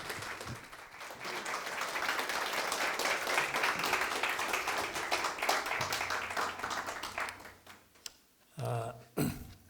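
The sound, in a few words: audience applause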